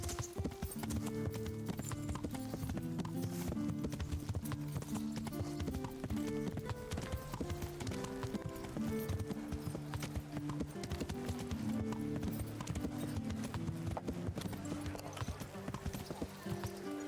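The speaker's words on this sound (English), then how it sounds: "Just gonna ride my horse." Rhythmic horse hooves clip-clop steadily throughout in Kingdom Come: Deliverance, layered over continuous music with a prominent melody and occasional voices.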